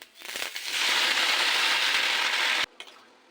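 Washed leafy greens hit hot oil with a sudden loud hiss and crackle that holds steady for over two seconds, then cuts off to a fainter sizzle.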